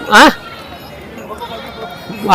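A sheep bleats loudly and briefly at the start at a sheep and goat market, and a second bleat begins right at the end, with quiet background noise between.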